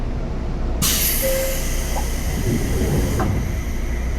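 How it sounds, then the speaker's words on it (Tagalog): A loud pneumatic hiss bursts in as Tokyo train doors close, followed by a brief chime and the steady rumble of the carriage. "Sasara na yung tren."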